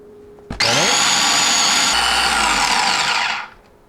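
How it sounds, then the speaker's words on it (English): Kitchen blender whirring through candlenut, shallot and garlic with a little oil, starting with a sharp click and running steadily loud for about three seconds before spinning down, no talk. "I'm gonna blend all my candle nut and shallot and garlic"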